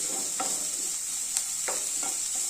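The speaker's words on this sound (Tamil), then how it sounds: "லைட்டாக ஒரு வதக்கு வதக்கிடுவோம்" Carrot, green chili, onion and curry leaves sautéing briefly in a pan, a steady close sizzle with a few scraping stirs of a spoon, no talking.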